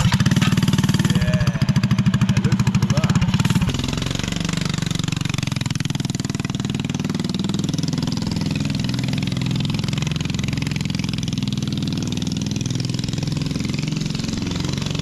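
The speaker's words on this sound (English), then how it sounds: "Oh, it's like a mixer engine, isn't it?" Small engine of a ratty roadster, likened to a cement mixer motor, runs with a loud, rough idle throughout; a harsher, choppier burst of revving fills the first few seconds before it settles into a steady drone.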